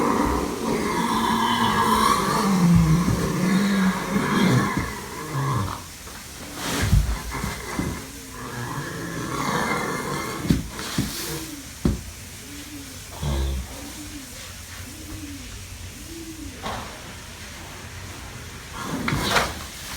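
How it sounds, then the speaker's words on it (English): A horse rolling in stall bedding: heavy thuds, rustling and scraping, with creaks and shuffling bursts at irregular intervals, close by and fairly loud, with no talking. "Kind of scary the first time you hear it, but that's a typical roll in the bedding for Lord Admiral"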